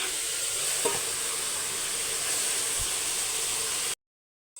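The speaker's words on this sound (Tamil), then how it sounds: "முக்கால் கிலோ மட்டன் இப்போ இதில் சேர்த்துடலாம்" Three-quarter kilo of mutton hits a hot pan for a mutton kuzhambu, giving a steady, close sizzling hiss with a couple of faint knocks before cutting off abruptly near the end.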